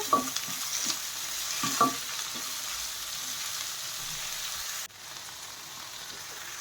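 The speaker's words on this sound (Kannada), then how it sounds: "ಕ್ಯಾಪ್ಸಿಕಮ್ ಮತ್ತು ಈರುಳ್ಳಿದು ಹಸಿ ವಾಸನೆ ಹೋಗೋವರೆಗೂ ಎಣ್ಣೆಯಲ್ಲಿ ಫ್ರೈ ಮಾಡ್ಕೋಬೇಕು" Chopped capsicum and onion, with curry leaves, fry in hot oil in a pan, giving a steady close sizzle with a few stirring scrapes early on before the hiss drops slightly lower.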